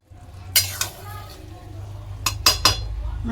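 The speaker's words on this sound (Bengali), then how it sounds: "চাল কিন্তু অনেকটা সিদ্ধ হয়ে গেছে, একটু উলট পালট করে দিই।" A utensil stirs and scrapes through partly cooked rice in a pot of chicken tehari, with several sharp metallic clinks against the pot over a steady low simmer, some of them in a quick cluster near the end.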